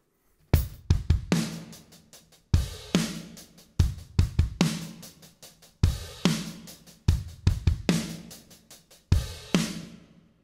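A drum kit plays the intro groove of a song at a slowed tempo, with repeating two-bar phrases of sharp, loud kick and snare hits, each followed by a ringing decay.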